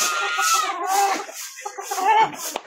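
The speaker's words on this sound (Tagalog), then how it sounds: "Lumipad yung manok mo." A chicken clucks loudly and close after flying, in a quick run of agitated, rising calls with brief pauses between them.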